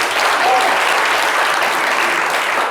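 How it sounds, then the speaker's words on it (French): Studio audience applause on a live TV variety show, loud dense clapping from a crowd that stays steady and close throughout, with a brief voice faintly audible beneath it. "On peut l'applaudir très très fort."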